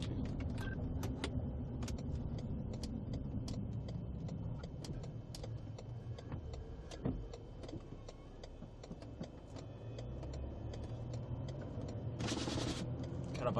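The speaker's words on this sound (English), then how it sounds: "Got a bunch of mud and rocks in the brakes making all sorts of noises." Car brakes clogged with mud and rocks while storm chasing in Kansas give off irregular clicks, ticks and scraping rattles over a steady low road rumble inside the moving vehicle, ending in a brief harsh burst.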